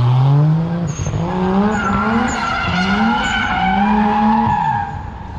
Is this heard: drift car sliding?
yes